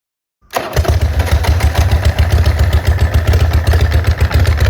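A Zero Engineering Road Hopper Type9 EVO motorcycle with a US-spec muffler is electric-started after a short silence, then settles into a loud, deep, thumping idle that continues steadily close by.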